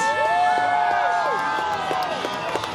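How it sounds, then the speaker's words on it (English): A crowd at a BMX bicycle stunt show screams, whoops and cheers loudly and continuously, a dense roar of many voices with scattered clapping over a pitched whistle-like tone. "If you guys want him to win that Nora Cup Award, I want you to scream right now."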